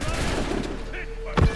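A sharp burst of musket gunfire in Assassin's Creed III cracks out loudly near the end, after a stretch of rumbling game ambience.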